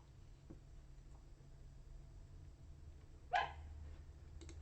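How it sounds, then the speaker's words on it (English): A single sharp bark from a puppy in a backyard cuts through faint steady background hum, with a couple of softer sounds around it and no voices. "There's my puppy in the backyard."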